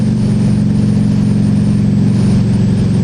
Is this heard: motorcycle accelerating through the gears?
yes